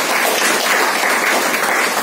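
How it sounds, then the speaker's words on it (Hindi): Audience applause at a motivational speech event: a dense, steady wash of many hands clapping together, sustained evenly for about two seconds with no voices over it. "तालियां होनी चाहिए इनके लिए।"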